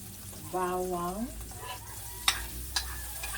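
Tomatoes and garlic cook in a pan, giving a low continuous sizzle close by, with a few sharp clicks of utensils on the pan. A voice hums or speaks briefly early on.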